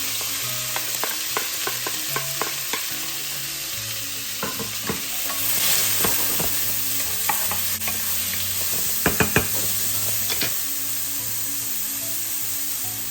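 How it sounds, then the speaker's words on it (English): Aromatics sautéing in a pan for Filipino ginisang ampalaya, a constant sizzling hiss with several sharp scraping and tapping sounds from stirring, close by, with a low hum underneath and no speech. "Now we're ready to saute our aromatics here."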